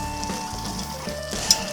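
Beef cheeks sear in a Grand Feu pot on a Kamado grill, making a steady close sizzle with light stirring and scraping noises.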